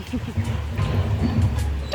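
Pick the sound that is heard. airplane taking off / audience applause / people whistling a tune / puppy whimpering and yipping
puppy whimpering and yipping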